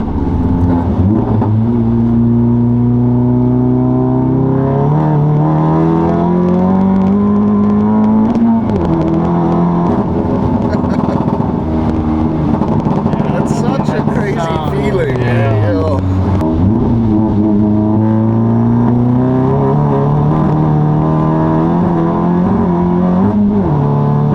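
A modified VW Golf 7 GTI Clubsport S engine drones loudly from inside the cabin while driving, pitch climbing through gears and dropping at each shift, with a strong rev around the middle.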